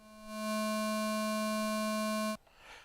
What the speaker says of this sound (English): I believe that's a triangle wave.